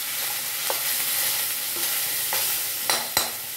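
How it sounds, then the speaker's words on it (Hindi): Cooked rice is stirred into a hot turmeric and green chili tempering in a pan for lemon rice, with a steady sizzle and a few sharp scraping strokes of the spoon near the end. "इसमें मिला देंगे ये हमारा राइस।"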